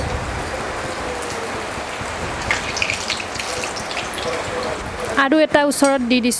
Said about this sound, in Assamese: এতিয়া ল' টু মিডিয়াম ফ্লেমত এটা এটাকৈ চব দি যাব।